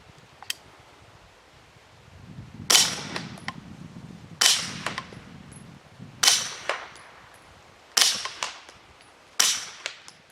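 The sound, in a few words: suppressed Grand Power SP9 A3 Stribog firing with roller delay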